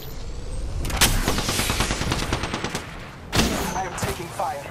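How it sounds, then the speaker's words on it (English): Automatic gunfire in the battle royale shooter Apex Legends: rapid bursts of sharp shots in fast rhythm, a pause, then more loud cracking volleys and booms, close and dominant, with game voices faintly mixed in. "I am taking fire."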